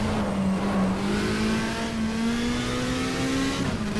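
A green BMW touring car in a 1987 WTCC race at Brno in the GTR2 racing game, its engine droning loud and steady at high revs as it runs close by, pitch climbing slightly, with no talk.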